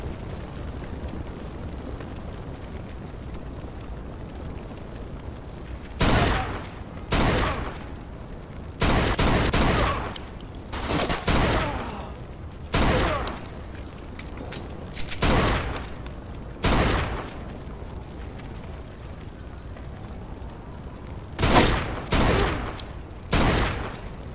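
Gunfire in the video game Mafia II, set in a building under construction: repeated loud bursts of automatic fire in clusters with short pauses, close and sharp over a low ambient background.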